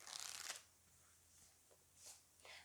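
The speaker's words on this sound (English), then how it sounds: "Let me just shuffle the cards for you." Tarot cards being shuffled, a quick riffling burst at first followed by softer scattered card slides and flicks, close and quiet with no talk.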